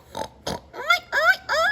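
A voice imitates a pig, giving five short oinking grunts in quick succession, the later ones rising into more nasal, squeal-like tones.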